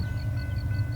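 A train rumbles past nearby, a steady low heavy drone with a faint high tone pulsing in a regular rhythm.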